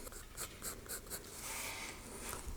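Pencil sketching on paper: rhythmic scratchy strokes repeat at a steady pace, then give way to a longer continuous shading rub, close and moderately loud with no talking.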